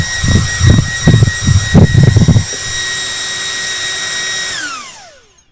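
A Flywoo QuickCool VTX portable fan roars loudly at full speed on 6S power with a steady high whine, after an opening stretch of rhythmic bursts, then spins down smoothly to silence at the end.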